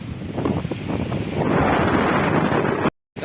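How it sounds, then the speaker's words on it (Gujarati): Sea waves and strong wind at Kachchhpar port in Gujarat, a steady loud roar of surf and gusting air buffeting the microphone, building slightly and then cut by a brief dropout near the end. "દરિયો આખો ભરાઈ ગયો"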